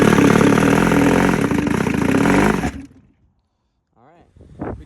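An outboard motor on a classic Boston Whaler runs loud and steady at close range, then cuts off abruptly, leaving a short silence before a few words of speech.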